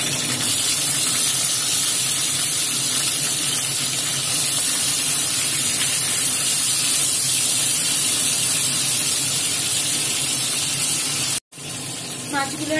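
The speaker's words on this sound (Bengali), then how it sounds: "এইদিকে চিংড়ি মাছটা ভাজার জন্য আমি কড়াইতে" Shrimp frying in hot mustard oil in a wok, a steady loud sizzling hiss running unbroken for most of the stretch before a brief cut near the end.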